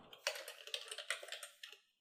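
Quick, light typing on a computer keyboard, a run of close, crisp key clicks in an uneven rhythm, fairly faint, with no voice over it.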